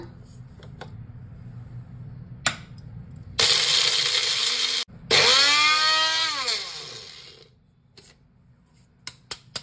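An electric mixer grinder whirs loudly as it grinds chai masala spices, running in two close bursts with a brief stop between them; the second burst winds down audibly, and a few clicks and knocks follow.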